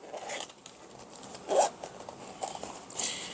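Zipper on a hard shell case for a colour-measuring device being pulled open, a short faint rasp with small scrapes and clicks, close up and quiet, no talking.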